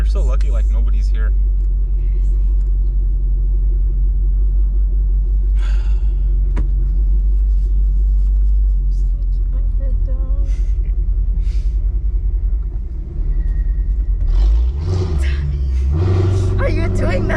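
A Mercedes-AMG with a raspy, loud exhaust rumbles close by at idle, a deep steady drone under conversation, with revs rising toward the end.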